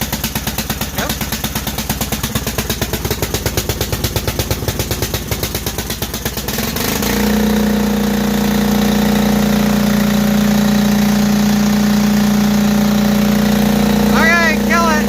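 A small Cub Crawler engine cranks with rapid rhythmic chugging, catches after about seven seconds and settles into a loud, steady, close idle, with people talking now and then.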